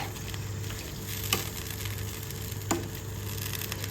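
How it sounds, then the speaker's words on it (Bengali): Aloo potol curry of potato and pointed gourd being stirred in a pan, with a steady sizzle of frying underneath and two sharp spoon knocks against the pan. "এবার সব কিছু একটু একসাথে নাড়িয়ে দেবো"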